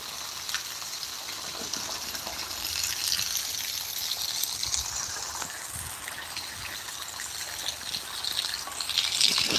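Heavy rain pours onto a waterlogged groundnut field in Rajula, Amreli district, Gujarat, making a dense, steady hiss of water that continues without letup, with no voices.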